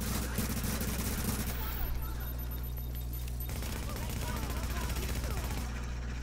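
Gunfire from a firefight in a video game's dark zone, loud bursts and rapid volleys running throughout over a steady low hum, with a voice talking underneath.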